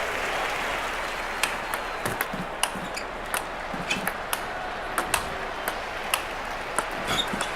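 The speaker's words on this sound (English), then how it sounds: "The crowd go wild and they respond." A video game crowd in London 2012 Olympics table tennis on PS3 claps and cheers after a point, a soft wash of distant applause under scattered sharp clicks and knocks.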